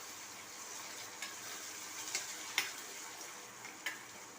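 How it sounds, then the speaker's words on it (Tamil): Onions and tomatoes being sautéed in a pan for wheat flour masala rotti, a soft continuous sizzle with a few light clicks of a stirring spoon, close and quiet with no voices. "மறுபடியும் நல்லா வதக்கிக்குவோம்."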